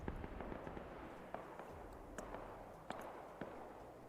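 Artillery shells landing in the Arma 3 Iron Front WWII mod, heard as a string of distant, sharp crackling bursts at irregular intervals over a steady low rumble of battlefield background.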